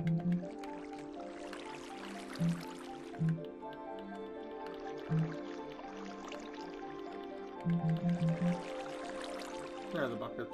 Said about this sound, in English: When I said fill it with water, I meant this.